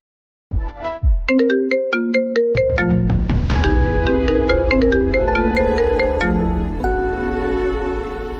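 A loud melodic phone ringtone plays for an outgoing call, a bright chiming tune of rapid repeating notes that runs for several seconds with no voices.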